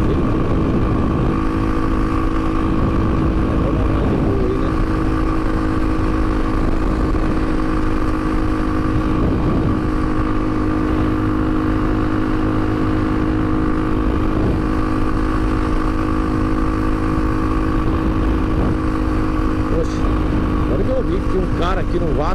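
A Honda XR200R motorcycle drones steadily at speed, a constant close engine hum with wind rush throughout, loud and unbroken.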